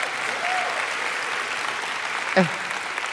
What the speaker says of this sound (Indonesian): Udah maksimal nih antusias segini tepuk tangannya